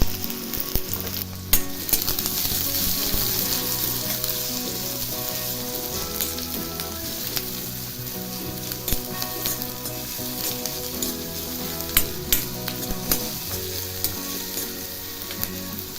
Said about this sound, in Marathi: कांदा छान असा भाजून घ्यायचा आहे